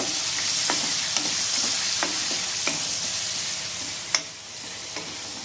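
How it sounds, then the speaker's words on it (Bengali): Potatoes fry in a pan with a constant sizzle, broken by several sharp taps and scrapes of a spatula stirring them at irregular intervals. "এখন ভালো করে আলুটা একবার ভেজে নেব।"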